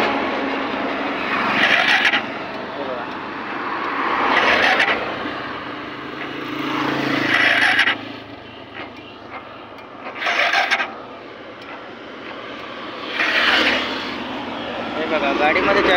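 A Hero Super Splendor BS6 motorcycle engine keeps running with the key removed, its steady hum swelling in repeated surges, while someone talks over it at close range.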